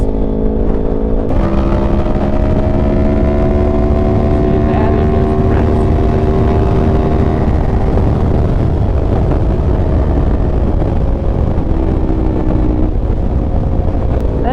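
A vehicle fitted with TST V2 stacks and a 2WDW tune pulls hard in 6th gear, giving a loud, steady engine roar with a rising drone and wind rush throughout. Close, with no talking.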